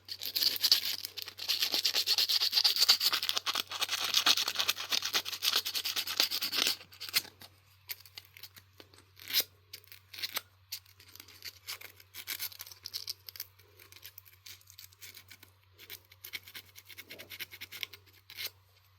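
Steady, close rubbing and scratching of 180-grit sandpaper across a surface, loud at first, then giving way to lighter, intermittent scraping strokes.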